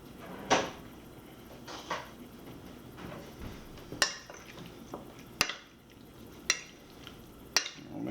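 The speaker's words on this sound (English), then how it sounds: "Lastly, we're going to stir this up with a spoon." A spoon stirs a marinade of spice, salt and oil in a bowl, giving a series of sharp clinks and scrapes against the bowl at an irregular pace, close and fairly loud, with no talking.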